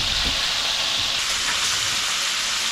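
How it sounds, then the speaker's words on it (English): Meat sizzles and browns in a pan as it is turned, a steady hiss of frying with light crackle throughout, fairly quiet and without talk. "let's turn that meat a little bit again. Just want to turn it until it's browned all the way around."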